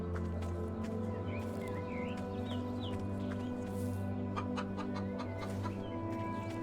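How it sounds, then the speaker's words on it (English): Chickens cluck in the zombie survival video game HumanitZ, with scattered soft clucks over a steady droning background. "I don't know if I should shoot the chickens or not."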